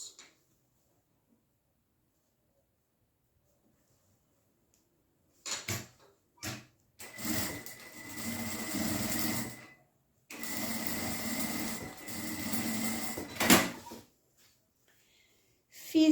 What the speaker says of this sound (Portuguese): Então, é só fazer uma costurinha de segurança aqui nessa borda.